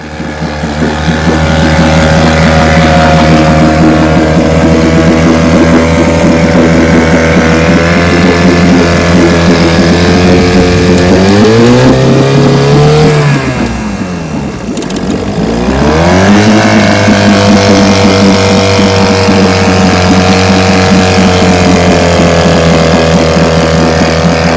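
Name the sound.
1949 Johnson 2.5 HP outboard motor running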